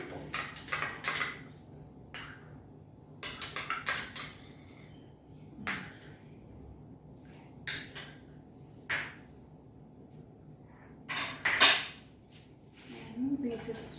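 A whisk clinks and scrapes against a bowl of yogurt mixture for eggless chocolate chip cookie dough, in irregular bursts of metallic taps separated by pauses, close by.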